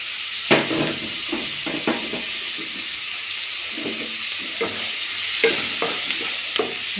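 Chopped onion frying in coconut oil already used for frying pappadam, a close steady sizzle broken by repeated scraping stirs of a spoon in the pan.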